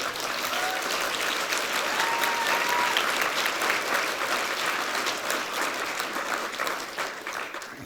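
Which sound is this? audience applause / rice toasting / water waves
audience applause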